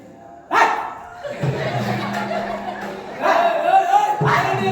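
A person barks in imitation of a large police dog, loud voiced barks in short bursts with a drawn-out howl in between.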